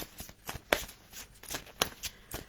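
Tarot-style cards shuffled by hand for a card reading, a series of quick, soft riffling bursts with sharper snaps, close and quiet, faint talk in the background.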